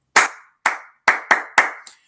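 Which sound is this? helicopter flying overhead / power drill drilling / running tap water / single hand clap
single hand clap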